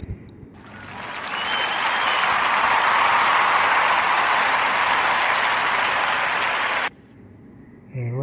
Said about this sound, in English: So clap it up for Alicia Keys